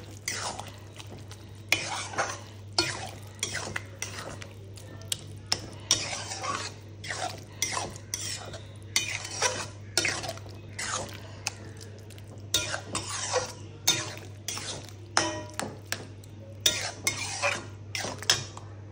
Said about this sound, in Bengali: এবার ডালটা দিয়ে মশলার সঙ্গে ভালো করে মিক্স করে নিতে হবে।